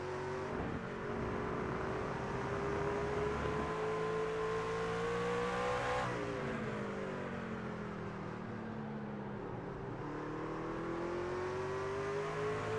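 Race car engine in the iRacing sim at Circuit of the Americas, a loud close whine that climbs in pitch, drops sharply on an upshift around the midpoint, then rises and dips again through a long corner.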